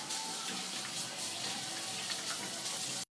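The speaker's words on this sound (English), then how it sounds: "I'm going to wash my hands again." Tap water runs steadily into a sink while hands are washed, a constant rushing flow close by that cuts off abruptly at the end, with no talking.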